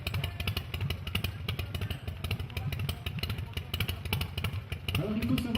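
A Harley-Davidson motorcycle engine revs at a biker gathering in Carnon, a loud, rapid, throbbing exhaust note that holds steady and then climbs in pitch near the end.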